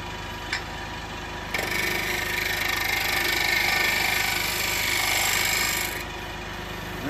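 A woodturning lathe spins a weeping ash blank at a reduced speed, with a steady mechanical hum that swells louder for several seconds midway and then settles back down.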